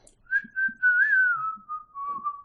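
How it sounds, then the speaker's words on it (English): A person whistles a single wavering melodic tune that is close and clear, with a few soft low thumps underneath. "I've been whistling this whole time."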